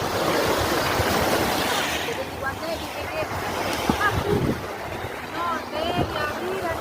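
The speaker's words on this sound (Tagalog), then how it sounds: "Ito na, ganito yung nasa lapit na ng dagat" Sea shore at Civitavecchia, Italy, with steady wind and surf rumble near the water and a boat sound; voices talk over it, fading in and out.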